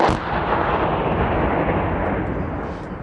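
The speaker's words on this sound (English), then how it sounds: "An American mortar hits the safe house where the soldiers from Restrepo are positioned." A mortar round bursts on a safe house occupied by American soldiers at Restrepo, a loud close blast whose deep rumbling roar sustains for about three seconds and slowly fades, with no voices.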